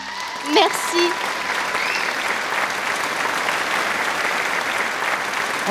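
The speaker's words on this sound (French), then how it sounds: "On les applaudit encore une fois." An audience applauds after a competition performance, with dense, sustained clapping that fills the room evenly, and a few brief voices or whoops rise above it near the start.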